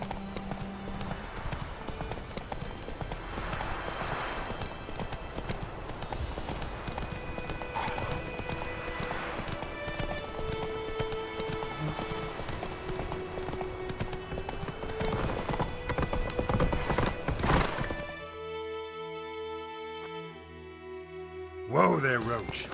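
Hoofbeats of a horse galloping in The Witcher 3 video game, a rapid clip-clop rhythm with occasional whinnies under game music and character speech, ending in a sudden quieter stretch and a sharp burst.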